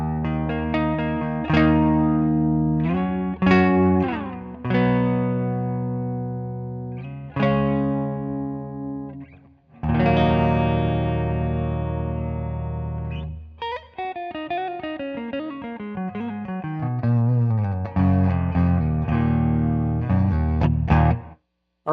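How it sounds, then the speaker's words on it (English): Electric guitar through a Bugera V55HD amplifier with its reverb set around the middle, playing clean to crunchy chords and picked phrases in several bursts, each ringing out with an audible reverb tail and brief gaps between passages. "we're gonna add some reverb, the reverb of the amplifier"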